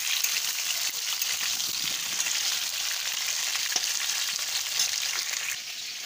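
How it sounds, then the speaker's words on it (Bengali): Potatoes fry in a pan for egg curry, giving a steady, close, bright sizzle that holds evenly with small crackles and pops and no talking. "গাইস ডিমের ঝোল রান্না করার জন্য দেখো আগে আমি আলুটা ভাজা বসিয়ে দিয়েছি"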